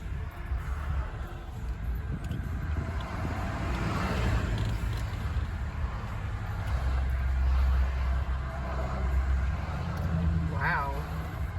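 Steady road traffic rumbles from inside a moving car, a continuous low drone with passing swells, while people talk over it and a navigation voice gives directions.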